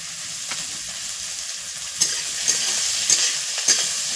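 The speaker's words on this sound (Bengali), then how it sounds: "রসুন দেওয়ার সঙ্গে সঙ্গে পেঁয়াজটাও দিয়ে দিচ্ছি।" Garlic and onion frying in a pan with dried red chillies and bay leaves, a soft steady sizzle with a few sharp stirring clicks and scrapes near the end, close by and without talk.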